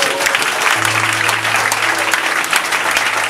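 A church congregation applauds together during a French-language consecration service, a dense, loud, sustained wash of clapping with a low hum underneath and no clear speech.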